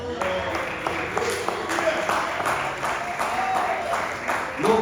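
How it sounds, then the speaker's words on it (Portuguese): A church congregation claps in praise during a worship service: steady, fairly loud rhythmic hand clapping from a crowd, with beats landing about twice a second, joined by voices underneath. "E a igreja senta glorificando ao Senhor bem forte com as palmas"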